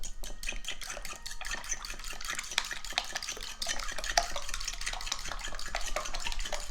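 Evaporated milk and four eggs being mixed by hand for a pumpkin flan, a steady run of quick, rhythmic clicking and scraping strokes against the bowl, close and fairly even throughout.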